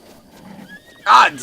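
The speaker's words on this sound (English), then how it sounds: "I want to catch this horse and stuff" A horse in the video game Breath of the Wild lets out a loud, close whinny near the end, following a stretch of quieter game sounds and low rumble.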